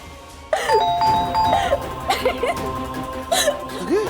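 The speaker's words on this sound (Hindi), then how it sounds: "रात को घंटी कौन बजा रहा है?" A doorbell rings at night inside a home, sounding as a series of bright electronic chimes repeated several times over a few seconds, loud and close with a faint room background.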